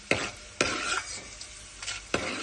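Chana dal fries in oil for ragi uppittu while a spoon stirs it, giving a few sharp scrapes and knocks over a low background sizzle.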